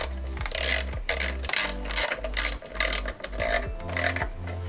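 Small screws driven through an electronic boost controller into a silver mounting bracket with a ratcheting tool: close, rapid clicking ratchet bursts in repeated strokes, with short pauses between them.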